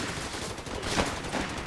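Gunfire in a Company of Heroes 3 battle, a dense crackle of rifle and machine-gun shots with a couple of louder bursts, steady and fairly close, with no talk.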